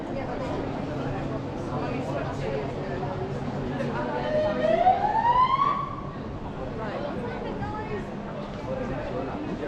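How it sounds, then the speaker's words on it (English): A police car siren wails on a street during a bus trip in Palma de Mallorca, rising clearly over steady traffic rumble and chatter, peaking briefly in the middle before fading back into the busy street noise. "Police car coming up here."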